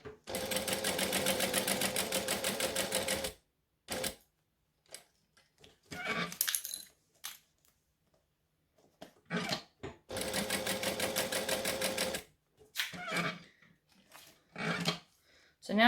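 A sewing machine stitches a wallet in two long steady runs of rapid needle strokes, broken by a pivot pause, then by brief handling noises and short bursts between stops.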